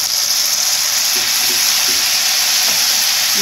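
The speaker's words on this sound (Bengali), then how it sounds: "পেঁয়াজটা ভাজা হয়ে গেছে আমি টমেটো পিউরিটা দিয়ে দেবো" Tomato puree hits fried onions in a hot pan for a Bengali prawn curry, producing a loud, continuous hissing sizzle with faint stirring scrapes and no voices.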